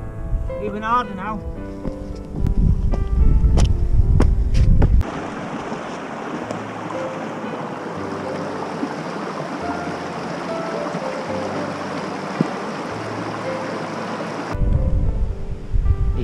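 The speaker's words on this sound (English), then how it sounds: "Still raining. Even harder now." Heavy rain and gusting wind on Beinn Dorain, a Scottish mountain near Bridge of Orchy, a loud continuous broadband rush with wind buffeting the microphone and brief louder bursts at the start and end.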